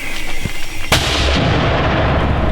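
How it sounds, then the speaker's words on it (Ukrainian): A single heavy mortar launch booms out sharply in the Serebryansky forest, followed by a long rumbling echo rolling away over a steady outdoor background. "Міномет. Постріл."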